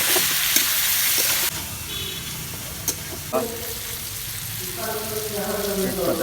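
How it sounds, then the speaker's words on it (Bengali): Chicken pieces fry in a pan with chili and turmeric, giving a loud, close hiss and sizzle that drops sharply after about a second and a half, then a softer sizzle continues with a few clinks while someone talks. "আমি একটু ভেজে নেবো হালকা হালকা মরিচ দিলাম দিলাম হলুদ"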